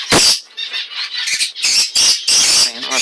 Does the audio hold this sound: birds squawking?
yes